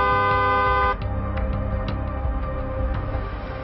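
A vehicle horn blares in a steady tone for about a second, then stops and leaves a faint engine hum with light clicks underneath.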